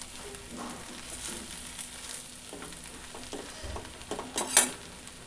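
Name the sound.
stirring and mixing uggani (puffed rice dish) in pan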